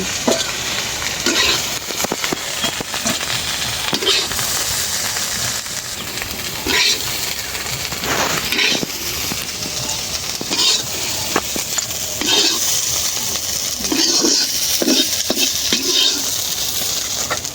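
Bitter gourd slices fry in hot oil in a pan, a steady crackling sizzle broken by repeated scraping stirs of a spatula, close and loud with no talking.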